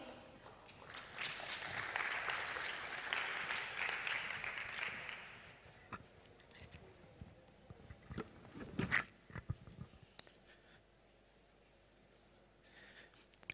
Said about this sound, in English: an applause also for him